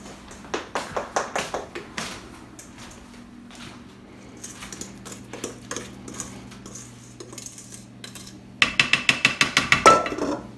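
A brownie pan being slid into a home oven, with a run of sharp metallic taps and rattles near the start, quieter clinks and scrapes through the middle, and a final quick burst of ratcheting clicks close by.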